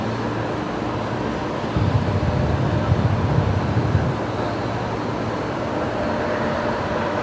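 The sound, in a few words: Singapore Airlines A350-900 taxiing at Brisbane Airport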